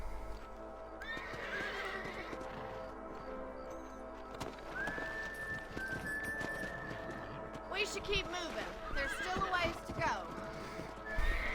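Horses clip-clop and whinny in the Western video game Red Dead Redemption, steady hoofbeats with a drawn-out neigh, heard faintly beneath game music and voices talking.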